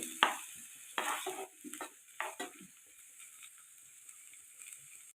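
Goat brain fry sizzles in a pan while it is stirred. Several close scraping strokes of the spoon come in the first half, then a steady faint sizzle carries on alone.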